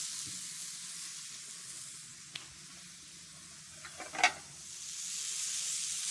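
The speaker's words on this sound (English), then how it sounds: "Maybe I'll put the bacon right onto the pan and let it warm up" Bacon laid in a hot frying pan sizzles with a steady, broad hiss throughout, with a few brief clicks and a louder crackling burst near the end.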